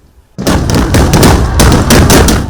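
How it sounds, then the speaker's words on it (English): Loud ceremonial gunfire marking an Emir's return during Eid al-Adha in Kano crackles in rapid, overlapping bursts after a brief quiet moment, sustained sharp cracks echoing continuously. "the ceremonial gunfire signaled the Emir's return"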